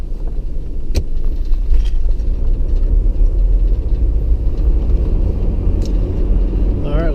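A Toyota 4Runner SUV with a fishing rod mount on it drives along, heard from inside as a loud, steady low road rumble with occasional rattles and clicks.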